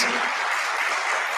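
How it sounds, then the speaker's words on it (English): A full round of applause from an auditorium audience at an international aviation conference, dense steady clapping filling the hall throughout. "Let's give him a round of applause."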